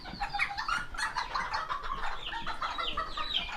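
Serama bantam chickens, including a young pullet hen, cluck and chatter close by in a quick, continuous run of short calls with no talking over them.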